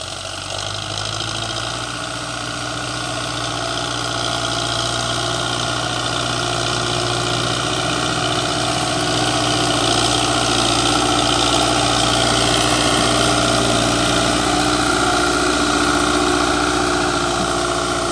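Belarus 820 tractor engine running steadily, a loud, continuous diesel drone with a constant low throb and mechanical vibration, unbroken for the whole stretch with no talk.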